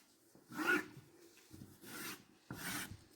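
Scissors cut through gown fabric in three separate close, quiet rasping snips, each a short scraping burst followed by a brief pause.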